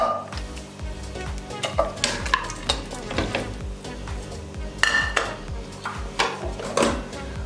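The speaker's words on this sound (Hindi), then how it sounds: "हाफ के जी हमने मटन ले लिया, ये ऐड कर देंगे पैन में" Half a kilo of mutton added to a hot pan and stirred, with a rhythmic scrape and clatter of a spoon against the pan over a steady sizzle, close and clear, without speech.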